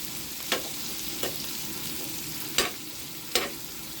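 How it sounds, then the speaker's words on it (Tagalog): Squid stir-fried with chili gives a constant hissing sizzle, with four distinct metal scrape or tap strokes spaced through it, no voices. "Diyan lang tayo magluto ng sizzling pusit mga idol."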